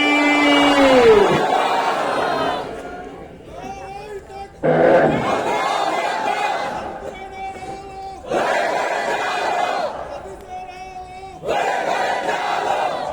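A large crowd at an Islamic Quran tafsir mahfil in Syedpur, Comilla shouts a takbir chant of Allahu Akbar. Loud massed voices answer in several bursts, with pauses between them, and the responses sound close and full.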